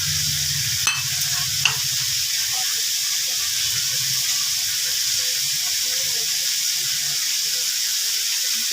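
Ground turmeric, chili and cumin powders sizzle softly in hot oil with cloves, cardamom and mace in a pan for doi gobi, a low steady frying hiss with a couple of sharp clinks of a utensil early on.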